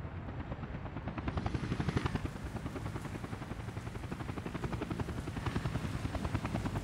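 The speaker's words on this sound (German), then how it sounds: "Der Heli landet" Helicopter in the city-building game Workers & Resources coming in to land, a steady dense rotor thrum with a whining turbine tone, loud and continuous throughout.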